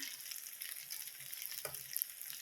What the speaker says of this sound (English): while we've got the sizzle going